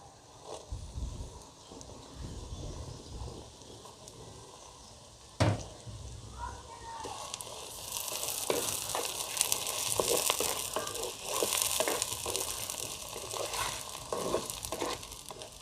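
Crushed garlic sautéing in a pan for a traditional village tilapia fish curry, a sharp clatter as it drops in, then a rising, steady sizzle with scraping stirs and crackles.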